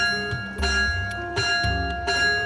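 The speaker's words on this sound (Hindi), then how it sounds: "अरे कौन पागल दोपहर को इतनी घंटी बजा रहा है?" A bell rings repeatedly at midday in a steady, rhythmic clanging with sustained ringing tones, close and fairly loud, and no voices over it.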